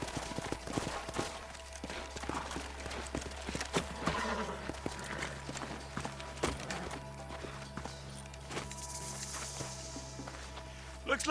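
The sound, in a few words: horses walking, hooves clip-clopping, from the video game Red Dead Redemption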